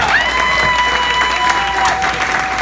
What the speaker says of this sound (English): You already gave them a round of applause, but how about one more for Dolores and Paul?